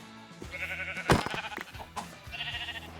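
Sheep bleating in the Minecraft video game: two short harmonic bleats, one near the start and one near the end, separated by a few soft thuds and clicks, fairly close and clear with no talk.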